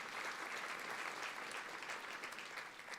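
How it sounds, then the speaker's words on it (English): An audience at an annual trade association dinner claps in a steady, even round of applause; dense hand clapping continues throughout without talk over it. "a round of applause"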